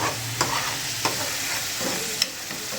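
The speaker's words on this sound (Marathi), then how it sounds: "आपण तरी पण थोडीशी तरी येऊस्तर वर तेल सुटूस्तर तो मसाला फ्राय करून घेणार आहोत" Masala with garlic and ginger fries in plenty of oil for a Mumbai-style fish gravy, making a continuous soft sizzle broken by a few light utensil taps while it is stirred.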